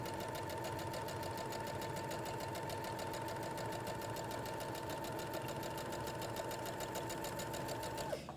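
A sewing machine runs continuously while stitching two joined pieces of fabric, a steady rapid needle chatter with a constant motor whine that holds evenly for the whole stretch and stops abruptly at the end.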